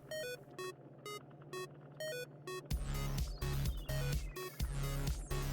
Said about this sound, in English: Why does it sound like just beeping?